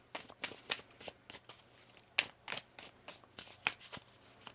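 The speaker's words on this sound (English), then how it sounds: "One more shuffle here." Tarot cards being shuffled by hand during a reading, a run of crisp riffling bursts and soft card slaps at an irregular rhythm, close up and fairly quiet.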